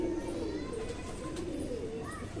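An old pigeon, seven or eight years of age, coos softly in a low repeated rumble, close by, with a steady background murmur throughout and faint chirps above.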